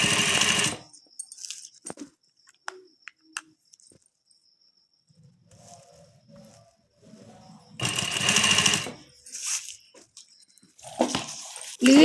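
A sewing machine stitches lace onto the upper portion of a saree, with loud close bursts of whirring separated by quieter gaps of handling and faint clicks.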